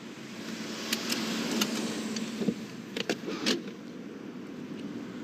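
Child locks engage inside a car with a series of sharp mechanical clicks and clunks over a low steady hum. The sound is close and has no talk over it.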